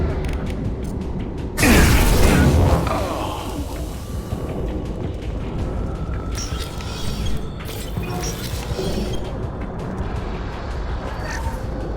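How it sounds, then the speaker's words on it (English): An armor-piercing weapon fires in Mass Effect 2 with one loud, sharp burst that decays over about a second, followed by a steady mechanical hum and faint clatter for the rest of the scene. "This should punch through their armor. Firing now."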